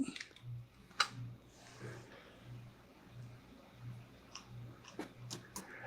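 Fast typing of a Linux terminal command on a computer keyboard, heard as a sparse run of sharp key clicks over a low, steady background hum.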